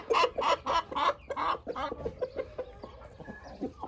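Several Sussex chickens cluck nearby in a garden, a run of loud, rhythmic bursts early on that thins into softer, scattered clucks and low murmurs, with no talk over them.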